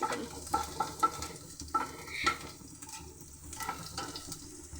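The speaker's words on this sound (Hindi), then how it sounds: "the capsicum are popping" Capsicum frying in a pan gives off a soft, close sizzle broken by a scatter of small irregular pops and spatters. No voice is heard.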